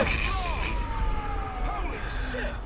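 Wailing ambulance siren in GTA V Online, a sliding two-tone sweep under continuous game noise and background chatter, moderately loud and steady across the moment.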